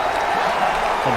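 Stadium crowd at a college football game roaring and applauding right after a fumble recovery, a loud, dense, continuous wash of cheering with nothing else standing out.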